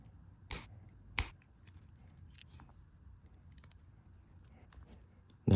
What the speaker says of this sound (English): Now we're going to undo these two screws.